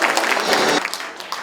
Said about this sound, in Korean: 우리 정준호 국회의원님께 다시 한번 힘차게 박수 부탁드리겠습니다.